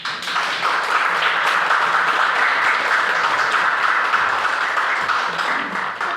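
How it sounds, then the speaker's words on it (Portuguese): An audience applauds after a talk at a Saturday doctrinal study session, a dense sustained round of clapping from many people, loud and even throughout. "Olha lá quem tá te aplaudindo"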